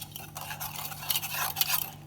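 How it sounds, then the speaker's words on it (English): A spoon stirring sugar into lemon juice in a glass, a steady soft scraping swirl with faint clinks, close and quiet. "Now you have to give it a good stir."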